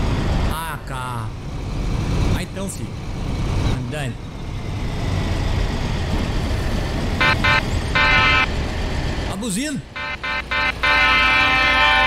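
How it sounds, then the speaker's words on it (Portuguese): A VDL coach horn sounds in Fernbus Coach Simulator, a single honk standing out near the end over a steady engine and road drone, with someone talking over the driving. "Uma buzina diferente, né?"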